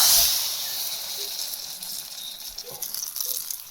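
Hot tempering of mustard seeds and dried red chillies poured into inji puli, a tangy ginger-tamarind dish, giving a steady broadband sizzle and hiss that starts loud and settles into a softer crackle with small pops.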